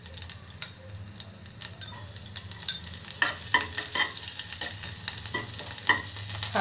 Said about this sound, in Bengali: ফুটে উঠতেই দিয়ে দেব রসুন কুচি